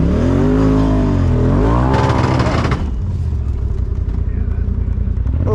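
A UTV's engine revs loudly and close, its pitch sweeping up and down, then a harsh, grinding clatter bursts out as the differential ratchets, followed by a steady rumbling drone.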